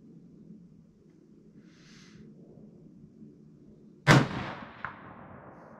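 A Ruger American Predator .223 rifle fires once at a gong on a hillside: a sharp, loud crack with a rolling decay, followed by a fainter metallic impact less than a second later, over a low outdoor hum.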